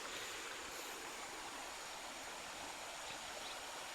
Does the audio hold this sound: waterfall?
yes